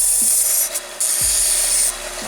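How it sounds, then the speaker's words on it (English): Sandpaper rubbed back and forth over a hunk of steel in a workshop, making a steady close rasping hiss in two long strokes with a short break between them. "Oh yeah, you sand that hunk of steel."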